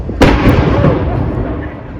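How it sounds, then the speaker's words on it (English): The One O'Clock Gun, a cannon fired daily at Edinburgh Castle, lets out a single loud, sharp boom that rolls away into a long echoing rumble over outdoor crowd noise. "at 1 o'clock every day there's a big loud bang"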